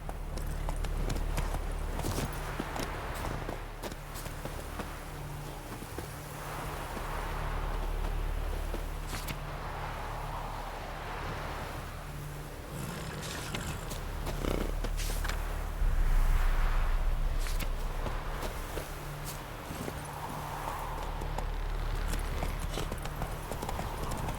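Hooves of Roach, Geralt's horse in The Witcher games, clip-clopping in a steady walking rhythm on the ground, moderately close and continuous for a long stretch with little else over it.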